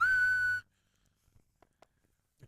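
A single clear, steady whistled note, held for about half a second, then near silence with a few faint small knocks.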